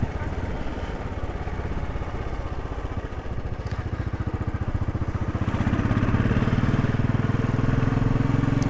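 A Royal Enfield Desert Storm motorcycle engine runs close and steady, its throbbing note shifting as it works up through five gears and growing louder and fuller in the later part.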